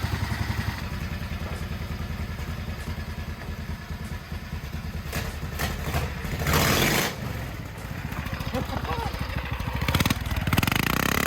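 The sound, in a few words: 18HP custom drift kart engine running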